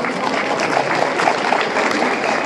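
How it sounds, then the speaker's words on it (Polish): Audience applause at a cat show featuring a Maine Coon and a Siberian cat, a brief stretch of steady crowd clapping in a reverberant hall, fairly loud and even throughout. "myślę, że tym kotom należą się specjalne brawa"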